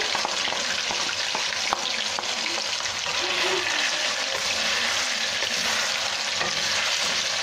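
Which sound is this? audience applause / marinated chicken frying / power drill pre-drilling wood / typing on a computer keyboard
marinated chicken frying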